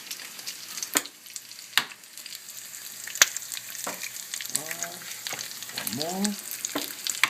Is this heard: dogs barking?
no